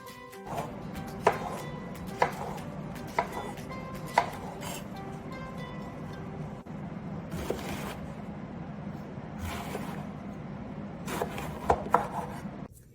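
A knife works through vegetables on a cutting board, rhythmic sliding strokes with periodic taps as the blade meets the board, close and steady.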